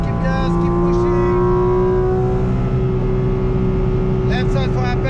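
Porsche GT4 RS flat-six engine held at full throttle on the Nordschleife, a loud steady howl rising in pitch that dips briefly at a gear change, close and continuous with a voice speaking over it.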